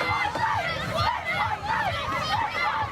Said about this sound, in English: And this crowd know what's coming up